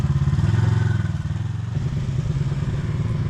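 A vehicle's engine rumbles steadily nearby on a mountain trail, holding a low chugging drone that eases slightly as it pulls away, with no voices.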